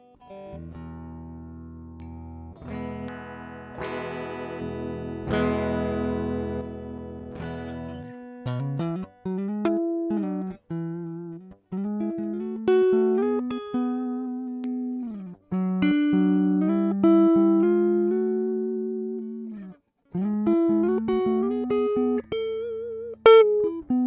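Electric guitar with its pickup coil split engaged, played clean in a sequence of strummed chords and picked single-note phrases with brief pauses, close and fairly loud, no voice.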